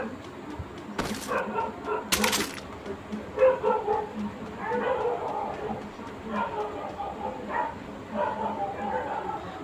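Dogs barking at night inside the Free Fire Max battle royale game, a few yips and barks scattered through the scene under steady game ambience and someone talking throughout.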